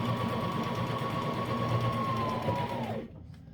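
A sewing machine stitches wool diaper cover fabric in one steady, fast whirring run that stops abruptly near the end, leaving quiet room tone.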